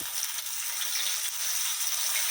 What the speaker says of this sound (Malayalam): എണ്ണ നന്നായിട്ട് ചൂടായിട്ടുണ്ട് നമുക്കിത് ഓരോന്നായിട്ട് ഇട്ട് കൊടുക്കാം